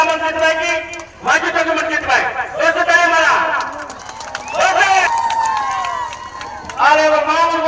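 Lively cheering and shouting from an audience at a village drama show opening, with voices rising in bursts over crowd noise; faint clapping may be mixed in.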